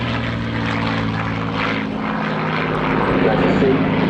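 A Hawker Hurricane propeller fighter flies its display at an airshow, its engine a loud, steady drone throughout that swells slightly toward the end. A voice talks over the aircraft noise.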